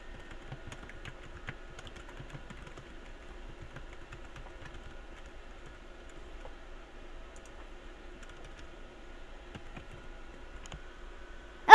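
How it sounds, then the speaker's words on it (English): Rapid typing on a Mac computer keyboard, a close, quiet run of key clicks in uneven bursts throughout, ending with a sharp louder knock. "I gotta type in some stuff"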